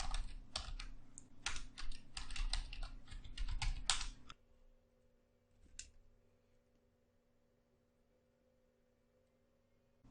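Fast typing of a command on a computer keyboard, a dense run of close, crisp key clicks for about four seconds, then a quiet hum with a single faint click.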